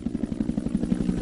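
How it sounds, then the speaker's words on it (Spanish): An American military helicopter in the Vietnam War, its rotor thumping in a steady, rapid beat as it draws nearer, with no voices over it. "Mientras el helicóptero americano se aproxima, el enemigo observa y espera."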